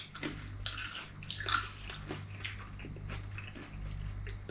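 Close crunching bites into crispy okoy, Filipino shrimp fritters with bean sprouts, a few crisp bursts over a low steady background hum, with no talking.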